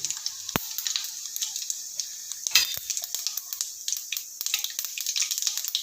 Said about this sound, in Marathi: आता जिरे मोहरी छान चढचडली आहे